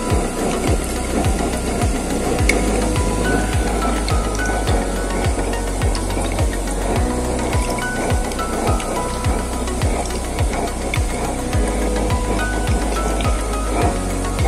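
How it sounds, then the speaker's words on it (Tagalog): A heavy-duty used-oil stove burner with a new 2 3/8-inch nozzle, burning oil that holds some water, roars loudly and steadily. Low popping thumps repeat at a regular pace beneath the roar. "Siguro may kaunting tubig yung ating langis, kaya ganun ang ingay niya."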